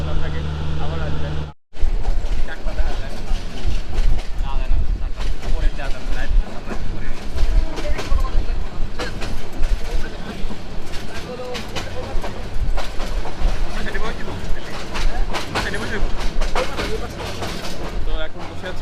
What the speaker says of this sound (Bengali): তো এখন বসে আছি হচ্ছে আমরা ট্রেনে